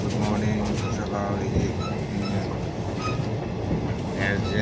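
A passenger train heading toward Adra rumbles along the rails with a steady, loud, continuous roll and faint rhythmic clatter, heard from on board.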